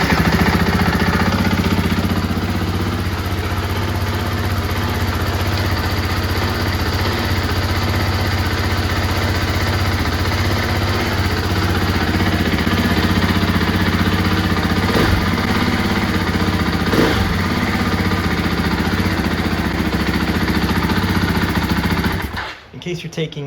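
A 2024 KTM 500 EXC-F dirt bike fitted with a new exhaust end cap idles steadily and loudly, its engine drone continuous and alone for about twenty-two seconds before cutting off abruptly at the end.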